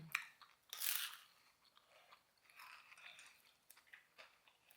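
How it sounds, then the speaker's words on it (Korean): Close, crisp crunches from biting into crunchy food at about one second, followed by softer, irregular chewing sounds, quiet and with no talking. "먹어보자."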